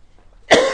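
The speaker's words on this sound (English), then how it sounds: "I wasn't coughing like this at home." A single sharp, loud cough bursts out near the microphone during a church sermon, then trails into a rasping throat sound after a quiet pause.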